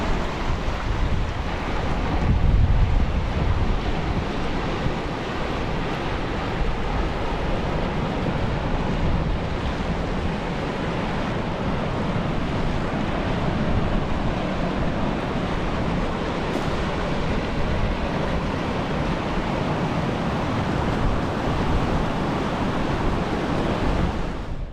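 Waves wash on a beach along the Cape to Cape walk while steady wind buffets the microphone, forming a dense, loud and continuous roar with no voices.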